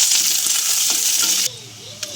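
Onions frying in hot oil in a kadai give a steady, bright sizzle that runs loud and close, then drops to a lighter crackle partway through, with one short clink near the end.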